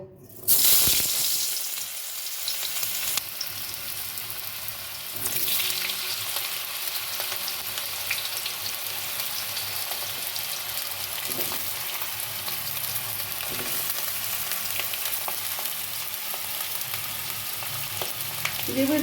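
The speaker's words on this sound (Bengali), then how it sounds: "কড়াই গরম হয়ে গেছে আলুটা ভেজে নেব" Potatoes fry in a hot wok with a steady, dense sizzle that begins loudly after a brief quiet start and holds for the rest of the clip. Occasional soft stirring scrapes sound beneath it, and no one speaks.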